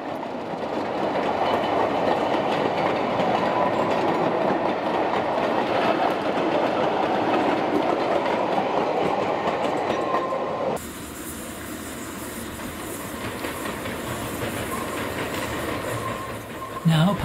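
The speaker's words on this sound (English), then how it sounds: "The operation of gravity slate trains was reintroduced about 1986 as demonstrations of how slate trains used to be run." A demonstration gravity slate train on the Ffestiniog Railway, run during a Bygones Weekend heritage event, rolls past with dense, steady clickety-clack and rumbling wheel noise, fairly close. The sound drops abruptly to a quieter rolling hiss partway through, ending with a brief squeal.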